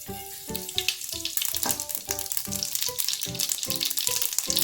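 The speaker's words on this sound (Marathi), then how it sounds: "पॅनमध्ये मी तडक्यासाठी दोन चमचे तेल घालून घेतलेलं आहे तेल तापलेलं आहे आपण मोहरी टाकून घेऊया" Mustard seeds crackle and pop in hot oil in a pan for a tadka, with close, dense sizzling and rapid repeated popping bursts throughout, no talking.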